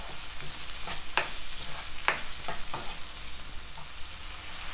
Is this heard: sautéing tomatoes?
yes